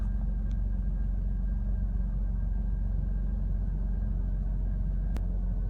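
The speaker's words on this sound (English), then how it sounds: "now the problem is when I put it in drive, that's when it starts revving like crazy" A Jeep Wrangler with a rough idle sits in drive, its engine giving off a steady low rumble with no clear revving. A faint high whine runs over the top, and a brief click comes near the end.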